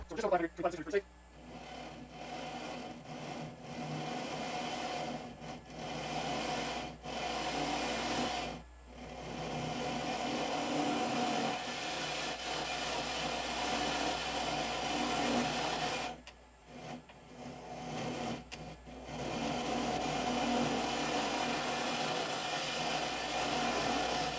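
A wood lathe cuts a spalted ash dice box at slow speed, under about 500 RPM: a steady, close, broadband scraping drone that runs almost continuously, with a few brief dips where the tool lifts off.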